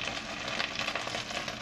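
Chicken pieces fry for three-cup chicken in a pan, giving a soft, even sizzle close by with faint crackles throughout.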